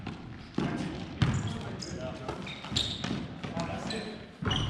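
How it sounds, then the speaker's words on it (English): A basketball thumps on an outdoor court in a steady run of sharp bounces, with soft squeaks and a jump shot from three-point range, heard close and moderately loud over light background noise. "Now let's follow that up with a three-point shot."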